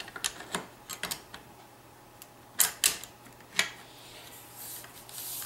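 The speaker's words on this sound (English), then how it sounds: "put your bolt on." Bolt being fitted onto a Remington 870 pump shotgun during reassembly: a scattered run of small metallic clicks, taps and rattles close by, some sharper than others, with quiet gaps between them.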